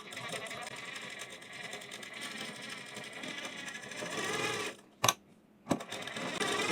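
A sewing machine stitches a Sabyasachi-style blouse at close range, a rapid continuous whirring run that stops abruptly, followed by a brief loud clack and a short second burst.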